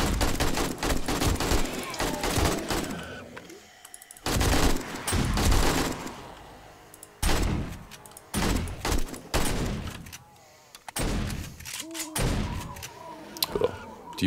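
Bursts of rapid gunfire from a zombie-survival video game, 7 Days to Die, loud and close, coming in several volleys separated by brief pauses, with game effects and thuds in between.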